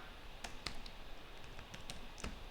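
Soft, quiet typing on a computer keyboard: a handful of light, irregular key clicks spaced through a faint room hiss.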